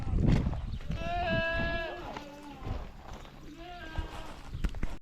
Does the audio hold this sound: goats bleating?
yes